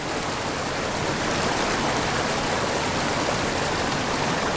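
A boulder-choked mountain creek rushes steadily over rocks, making a dense, loud, unbroken roar of flowing water close by.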